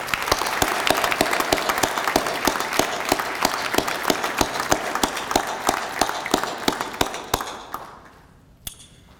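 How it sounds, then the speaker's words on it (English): A Veterans Day ceremony crowd in Arlington, Texas claps for four honorees, with sharp individual claps standing out from the steady applause before it thins and trails off to a few last claps. "Another round of applause for the 4 honorees."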